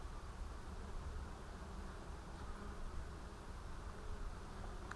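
Bees hum and buzz faintly and steadily around an open beehive while a frame is lifted and inspected, a soft continuous drone with light rustling.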